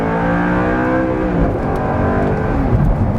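A 10-year-old 420 hp Audi R8 V8 downshifts and pulls hard to redline, its loud, close engine note climbing steadily in pitch with a dense, layered exhaust roar and no speech.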